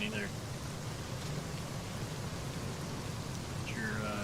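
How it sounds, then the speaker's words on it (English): Heavy rain pours steadily in a desert area of the video game Rust, a dense, even hiss throughout with a low rumble beneath; voices talk faintly over it at moments. "I didn't know it could rain this hard in the desert."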